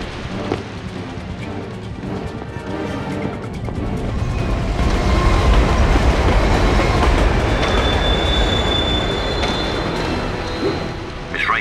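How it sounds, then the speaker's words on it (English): A monorail train in the Batman Begins video game rumbles past, a loud rolling roar that swells and sustains with rattling and clatter, a faint high tone riding above. "Miss Rachel has the monorail in place"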